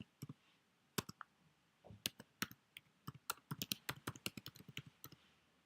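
Someone types a login and password on a computer keyboard, producing quiet, close keystroke clicks in irregular bursts that speed into a quick run of taps toward the end, with no talk.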